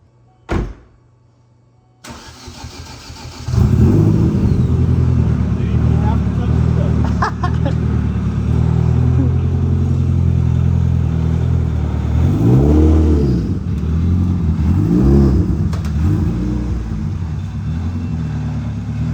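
Tuned turbocharged Chevy Cruze starts with a short thump, then the engine roars loud and steady, with swelling revs around the middle and later; it sounds close, with people talking faintly underneath.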